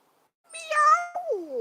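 A cat gives one clear, close meow followed by a second drawn-out falling cry, loud against otherwise silent surroundings.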